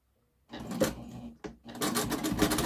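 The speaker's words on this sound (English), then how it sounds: "Okay, so now I'm just going to top stitch this side." A sewing machine top stitching beside a zipper runs close and loud, starting after a short silence, pausing briefly, then whirring steadily again.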